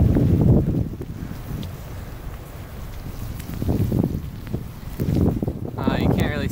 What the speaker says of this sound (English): Hurricane force winds out here